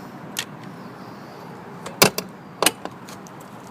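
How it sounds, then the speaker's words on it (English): Charging port door on a Nissan Leaf being shut, heard as a few sharp plastic clicks and snaps close by, with a louder pair of clacks near the end over a quiet outdoor background. "let's close up the charging port."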